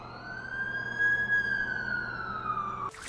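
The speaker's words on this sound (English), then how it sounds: "That's the ambulance I called." Ambulance siren in The Amazing Spider-Man 2 video game, a single steady wailing tone that holds loud and close for about three seconds, then cuts off abruptly near the end.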